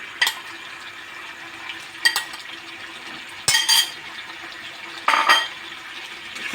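Peeled tomatoes stirred in a frying pan, a spoon scraping and clinking against the pan in four distinct strokes over a faint steady sizzle.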